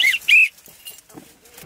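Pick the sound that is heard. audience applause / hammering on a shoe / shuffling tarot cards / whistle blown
whistle blown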